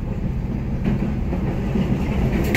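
Car crossing the expansion joint where a Dnieper river bridge meets a land overpass, a steady low rumble of tyres and road noise with faint rhythmic thumps as the wheels pass over the seam.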